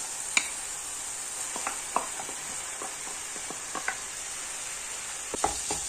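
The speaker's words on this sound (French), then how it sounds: "vous laissez bien cuire la viande hachée pendant quelques minutes" Minced meat frying with spiced vegetables in a pan, a steady sizzle broken by several sharp clinks and scrapes of stirring, close and fairly quiet with no talk.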